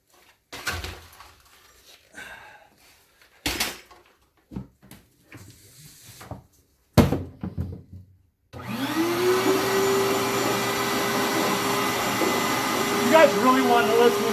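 After several knocks and clatters, a vacuum cleaner switches on and runs with a loud, steady roaring whine through to the end, sucking debris from the trunk of a 1972 Porsche 914.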